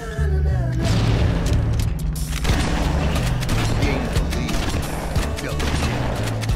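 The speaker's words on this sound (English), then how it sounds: "Now I'm just getting kills just by sitting here shooting at the floor." Video game gunfire from a weapon shot repeatedly into the floor: a dense, loud run of rapid booming shots and mechanical clatter that continues steadily throughout, with a voice speaking at moments.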